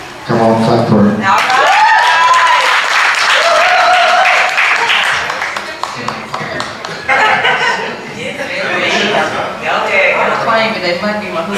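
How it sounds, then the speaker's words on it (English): Audience at a publishing company launch event in Houston breaks into sustained applause and cheering, loud and close, with whoops and voices mixed in throughout. "Come on, clap for her."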